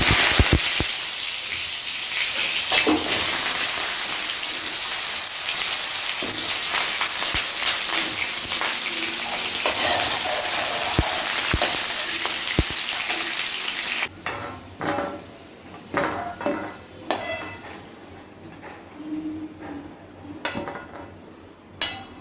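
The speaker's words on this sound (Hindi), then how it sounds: "अब मैं आलू को भी फ्राई कर लूँगी।" Potatoes frying in a pan at home, a loud dense sizzle with occasional stirring clatters at first, then quieter and patchier crackles with scattered spatters near the end.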